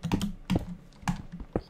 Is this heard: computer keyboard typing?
yes